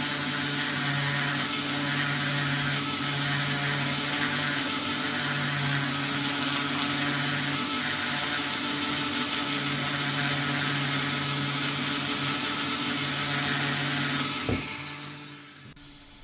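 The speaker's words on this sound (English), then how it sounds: "Now here we are using the Master Carver Flame Burr" Steady high whine of a Dremel rotary tool fitted with a Master Carver flame burr sanding a wood carving, continuous and close for most of the stretch before spinning down near the end.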